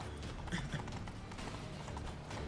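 Horse hooves clip-clop at a steady gait in The Witcher 3: Wild Hunt, faint and low under game music and ambience, with voices speaking briefly.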